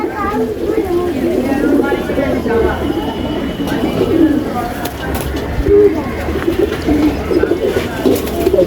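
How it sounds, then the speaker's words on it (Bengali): Pigeons kept for racing coo in low, soft bubbling calls, several birds overlapping close by against a steady background, with a person talking over them. "আপনাদের কিছু কবুতর দেখালাম"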